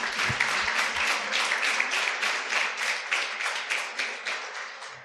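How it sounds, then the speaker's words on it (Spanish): A church congregation applauds in a sustained burst of dense clapping that holds steady and fades slightly toward the end, with no voices over it. "Vamos, denle un aplauso al Señor, iglesia."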